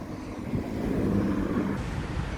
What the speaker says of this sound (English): It's actually pretty windy out.